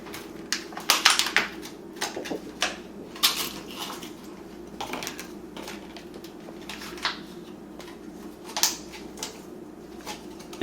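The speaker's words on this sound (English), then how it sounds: "These are not organic, so we're going to wash them. I'm going to use a strainer." Fresh, non-organic blueberries are rinsed in a strainer, giving scattered close clatters and rattles of berries and metal over a soft, continuous wash of water, with bursts of knocking spaced a second or two apart.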